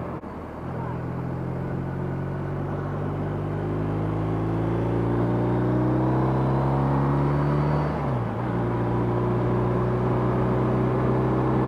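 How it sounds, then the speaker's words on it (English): A 2023 BMW R 1250 RT motorcycle engine pulls steadily under acceleration while riding, its droning pitch climbing for several seconds, briefly dipping at a gear change, then rising again over constant wind rush. "More sporty sound and more sporty on acceleration than the GS."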